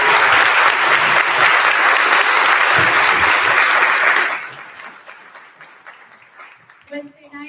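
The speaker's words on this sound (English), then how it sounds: "one more round of applause for all of our soloists" An audience at a school cabaret night gives the soloists loud, dense applause for about four seconds, then it fades to scattered claps as a voice begins speaking.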